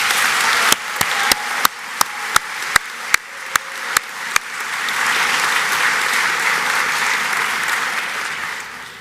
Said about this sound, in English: So I want to hear you give yourselves a really huge round of applause